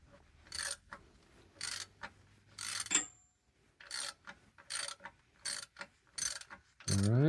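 A ratchet wrench clicks in short bursts of rapid pawl ratcheting while loosening the differential fill plug on a 2021 Jeep Wrangler JL, close up with brief pauses between strokes and no talk.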